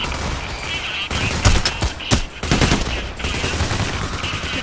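Pistol shots crack through a chaotic Payday: The Heist firefight, several sharp reports scattered over steady background battle noise, with a faint voice underneath.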